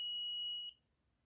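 A shrill, steady electronic tone from an Arduino buzzer triggered by an ultrasonic distance sensor sounds alone for under a second, then cuts off abruptly into near silence.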